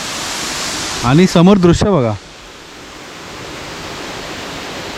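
A waterfall in the Sahyadri forest at Gaymukh near Poladpur rushes as a steady, broad roar of falling water, briefly covered by someone speaking nearby before the torrent continues alone.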